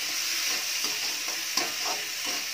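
Chopped tomato sizzles in a hot pan with red chili, a bright steady frying hiss broken by several soft scraping stirs of a spoon, close up and with no talking.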